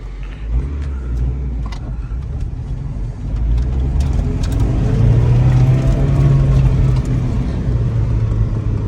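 A Geo Tracker in two-wheel drive, with gear reduction and a locker fitted, drives steadily with a continuous mid-pitched engine hum and road rumble. The note rises and grows louder a few seconds in as it accelerates, and no one speaks.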